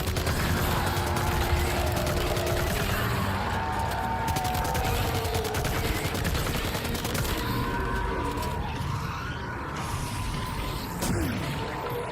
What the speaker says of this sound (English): Let's shoot his ass.